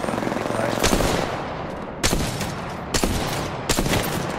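Gunfire from Apex Legends on PS4 rattles in loud, rapid bursts, with four sharp volleys cutting through a constant dense background of combat noise.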